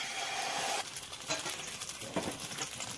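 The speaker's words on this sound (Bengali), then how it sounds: "তেলটা গরম হয়ে গেছে। এখন আমি ডিমটা দিয়ে দেবো" Beaten egg hits hot oil in a wok with a sudden bright hiss that settles into steady, crackling sizzling and light spattering, close and fairly quiet with no talking.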